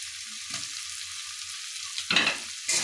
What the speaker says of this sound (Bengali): এর মধ্যে আমি ভেজে রাখা আলুগুলো দিয়ে আবারও কষিয়ে নেব